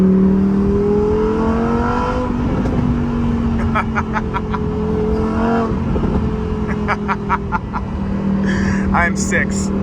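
A Lamborghini engine holding a steady drone while cruising at about 55 mph, with a loud continuous tone that rises and falls slightly, and people talking excitedly over it.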